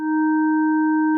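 A steady electronic tone built from three stacked pitches, one strong low note with two fainter higher ones, held evenly with no variation.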